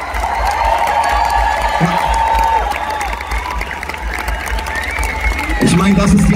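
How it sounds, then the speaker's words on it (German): At an open-air lakeside festival stage, a large concert crowd applauds and cheers steadily, with whoops rising over the clapping and a brief spoken word. "das ist euer Applaus"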